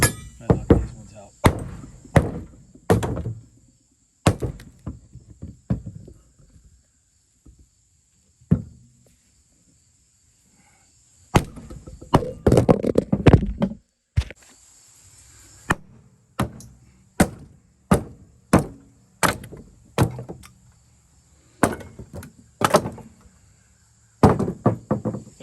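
Trailer floorboards of treated lumber are pried and knocked loose from the cross members, giving bursts of sharp wooden thunks and chopping knocks in irregular clusters, with quiet pauses between the rows of blows.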